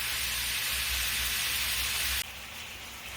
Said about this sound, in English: Hear the sizzle? We want sizzle.